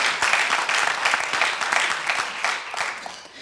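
Applause from a conference audience at a FIFA equality and inclusion event, steady dense clapping filling the room, loud and close, fading slightly toward the end.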